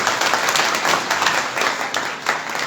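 A Ram Katha audience at a temple in Bilaspur claps together, a dense, steady burst of applause from a large gathering lasting a few seconds.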